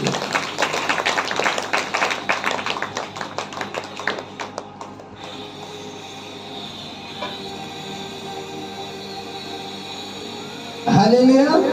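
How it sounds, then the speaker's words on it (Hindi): A church congregation at a Saturday prayer meeting claps rapidly in unison to praise God, with the clapping loud at first and then thinning out, under a steady hum of background noise. "ताली बजाकर परमेश्वर की कदर।"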